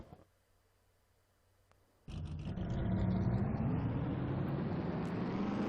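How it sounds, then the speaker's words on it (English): Formula 1 race car engines in a racing video game set at Estoril, Portugal: near-silence, then an abrupt loud burst of engine roar that keeps climbing in pitch. "Drivers, start your engines!"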